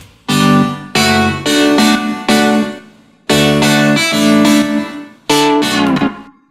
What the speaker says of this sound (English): So with the reverb and the distortion sounds like this.